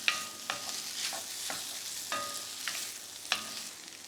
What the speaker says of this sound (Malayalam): നമ്മൾ നന്നായിട്ട് ഇളക്കണം